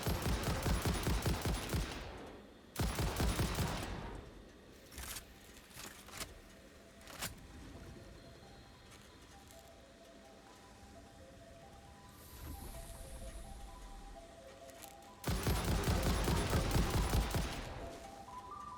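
Bursts of rapid gunfire from a weapon in the factory-building video game Satisfactory, with loud automatic volleys at the start, around three seconds and near the end, and quieter shots and game ambience in between.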